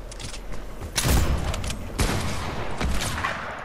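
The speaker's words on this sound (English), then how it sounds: "I'm shooting you in your face." Gunfire in the video game Fortnite comes as loud rattling bursts, one sharp volley about a second in and another near two seconds, over a steady game background with no talk.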